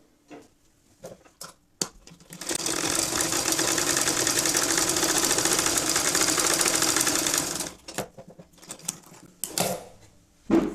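Sewing machine stitching along a half-inch folded strip for a baby tikli hat, one steady loud whirring run of about five seconds, with soft handling clicks before and after.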